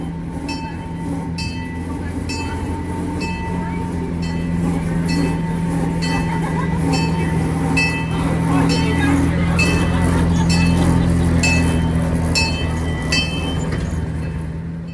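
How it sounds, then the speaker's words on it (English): A Kalamazoo maintenance-of-way track speeder rides the Lowville and Beaver River Railroad, making a loud, steady engine drone and rail rumble with evenly spaced clicks from the rail joints. "they run a trolley, battery-powered trolley, as well as a Kalamazoo maintenance of way speeder"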